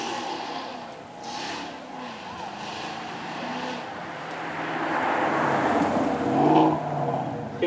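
A wide-body Ford Mustang GTS with a 700-horsepower 5-litre V8 spins its wheels at a supercar weekend, the engine roaring steadily before swelling louder with rough tyre noise toward the end.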